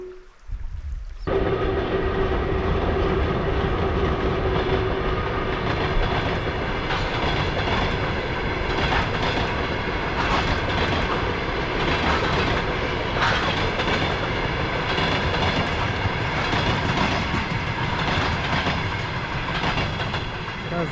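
A train rumbles past steadily on a mountain railway in the Carpathians near Slavske, Ukraine, after a brief quiet start, its loud continuous roar carrying faint rhythmic clatter from the rails.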